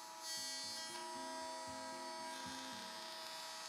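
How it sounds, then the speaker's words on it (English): Router bit cutting a rabbet into the top edge of a bent-wood pendant lampshade, a steady high electric whine with a faint pulsing hum underneath, continuous and distant-sounding, with no talking. "I set up a router bit to cut a rabbet into the top of the lights."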